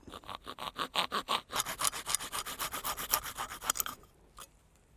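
Rhythmic back-and-forth strokes of a hand rasp or saw on a stock M-4 pistol grip, about a dozen close, steady rasping passes that stop abruptly near the end, leaving near silence with a faint scrape.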